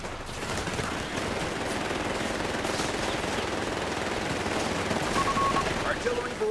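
Artillery barrage in Company of Heroes 3's Italy campaign at Villa Literno: continuous heavy gunfire and rapid detonations rolling without pause, loud and dense throughout.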